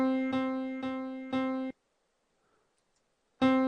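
An electronic amplitude-modulated demo tone steps through different loudness levels, repeating short buzzy pulses, then a silent gap before the tone returns loudly.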